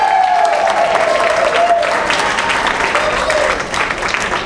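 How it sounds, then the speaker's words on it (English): Audience applause and cheering for a new comedian at a stand-up comedy show at Hyenas in Dallas, dense and steady throughout, loud and close, fading slightly near the end. "Give it up for this new upcoming comedian we're working with."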